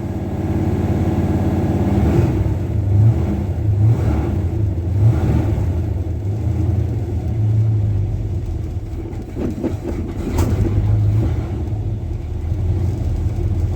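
A car engine idles steadily with a low, even rumble and slight fluctuations, close and fairly loud, with no voices.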